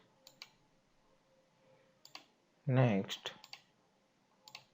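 A computer mouse clicks during a spy agent software install on Windows: a few faint, sparse clicks spread out in a quiet room, with a short burst of voice in the middle.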